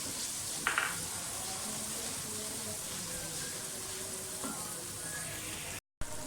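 Garlic-ginger paste and green chillies frying with onions in a pan, a steady quiet sizzle with a couple of brief clinks or stirs, then a short dropout near the end.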